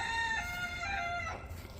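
Backyard chickens clucking close by, with a rooster's long harmonic crow running through most of the moment and a brief squawk near the end.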